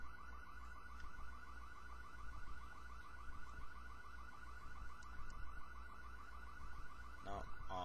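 Steady warbling car alarm from the video game The Getaway: Black Monday cycles on without a break over low game rumble, with a brief sharp burst of noise near the end.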